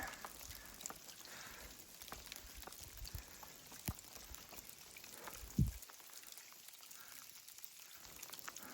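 Scattered small hail pellets tick and patter on surfaces around at high altitude near Cottonwood Pass, a light irregular crackle with one sharper knock, fairly faint.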